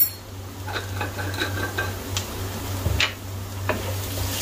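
Spices, ground coriander and a pinch of turmeric, being stirred into potatoes and spinach in a pan for aloo palak: soft scraping stirs and light clinks of a utensil over a steady low hum, faint sizzle beneath, no talking.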